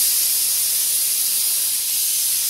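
An old pressure cooker with a faulty whistle leaks a loud, unbroken hiss of escaping steam, close by and constant.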